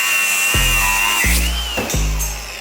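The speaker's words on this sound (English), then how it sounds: "So I'm gonna mark that, grind that off." An angle grinder cuts off a car part during a stance modification, three loud grinding bursts, each starting abruptly and whining down, run close up with no talk.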